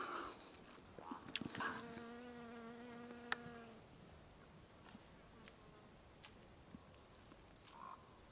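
Bees buzzing around tobacco plants outdoors, their faint droning hums rising and fading as insects pass nearby, with scattered soft clicks and rustles in the background.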